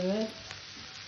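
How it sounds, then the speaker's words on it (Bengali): Beetroot and potato chunks frying over a low gas flame and being stirred: a soft, steady sizzle with a brief scrape, faint and close. "গ্যাস একদম ছোটো করে দিয়ে নাড়াচাড়া দিয়ে ভেজে নিতে হবে"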